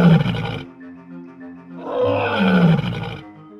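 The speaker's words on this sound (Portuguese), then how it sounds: "O rugido do leão ecoa pelas savanas" A lion roars twice in deep, throaty bursts, the first short and the second longer and rising, loud and close with no other sound between.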